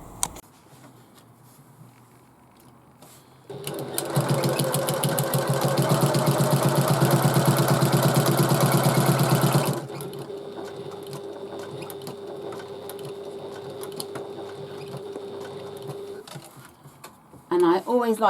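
One sustained burst of sewing machine stitching runs down a quarter-inch bag seam, loud and close, set between quieter stretches with a low hum and light handling noises.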